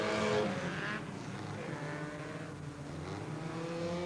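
Brisca F1 stock cars racing at Mildenhall, engines roaring steadily as the pack sweeps past on the home straight, a sustained loud drone at mid distance with no talk.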